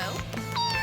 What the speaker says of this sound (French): Oui, des chatons!